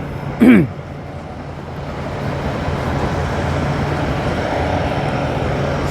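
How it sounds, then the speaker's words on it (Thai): A Phet Charoen rice harvester works a muddy paddy field. Its engine gives a loud, steady mechanical drone that holds for several seconds, with a short tonal squeal near the start. "ให้ชมสมรรถนะการทำงานของ รถเกียร์รุ่นนี้นะครับ"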